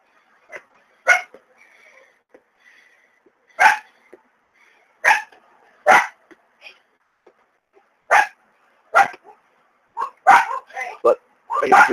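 Several dogs bark in scattered bursts, some single and some in quick runs, loud and fairly close, with short quiet gaps between them and a few softer yips in the background.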